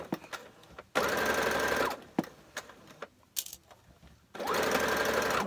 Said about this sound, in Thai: ตรงปลายแขนก็พอดีแล้วเราก็เย็บไล่ๆลงมา